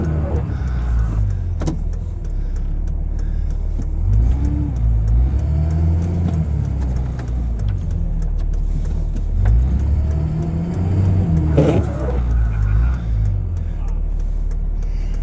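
A blue Ford pickup's engine revs repeatedly while stuck in a snow berm during a snowstorm, a steady mid-pitched drone swelling in several rises, with people talking inside the cab throughout.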